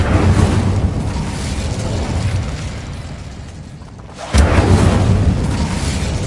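The Incendio fire spell cast in Hogwarts Legacy on PS5 makes a loud, sudden whooshing burst that cuts in over a dense, steady rumble of game ambience, with no voices.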